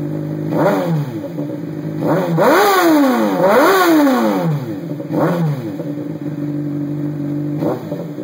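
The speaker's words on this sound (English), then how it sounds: "I don't like hitting the rev limiter and floating the valve, so that's all I'm doing." A 2012 Honda CBR 600RR sport bike with a Hyperflo exhaust is revved at idle in several sharp blips, each rising and falling quickly, loud and close, with no one talking.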